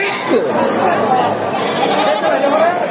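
Goats and sheep bleat amid the steady crowd chatter of a livestock market in Narsingdi, while someone talks nearby over the continuous din.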